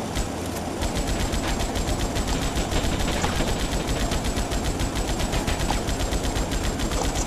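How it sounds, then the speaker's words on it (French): Rapid, continuous gunfire from GTA Vice City, dense overlapping bursts like automatic weapons rattling without pause for the whole stretch, loud and steady with no talking. "Dès qu'on a une arme, on est obligé de tirer avec."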